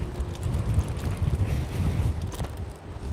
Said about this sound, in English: it's very windy down here today